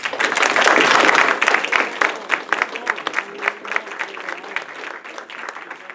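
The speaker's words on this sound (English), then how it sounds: "Let's give him another round of applause." An audience gives a speaker a round of applause, loud and dense at first, then thinning into scattered claps as it fades.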